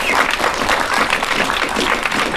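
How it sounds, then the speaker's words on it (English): An audience at an art exhibition opening claps steadily throughout, a dense, even round of applause from a crowd. "I'd like to give Uncle a round of applause"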